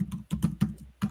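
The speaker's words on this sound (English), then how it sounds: "Two different keyboards I keep typing on." Quick, close keystrokes on a computer keyboard at a desk with two computers, coming in an uneven burst of clicks with short pauses between them.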